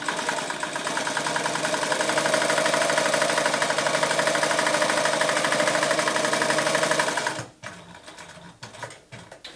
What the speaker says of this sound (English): This servo motor really excels itself at slowly approaching a point where I want to stop.